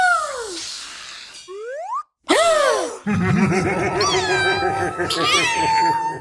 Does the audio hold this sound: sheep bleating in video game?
no